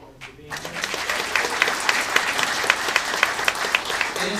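Audience applause for an Army specialist at a D-Day anniversary event, a dense steady patter of clapping that swells in after a quiet start and holds strong to the end.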